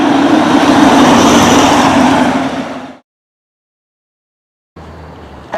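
A Hummer drives with loud, steady engine and road roar for about three seconds, then cuts to silence before quieter vehicle noise returns briefly at the end.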